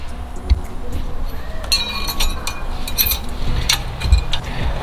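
Small metallic clicks and clinks sound as a brake bracket part is pressed into place on a Honda Accord during a brake job, scattered light taps over steady background noise.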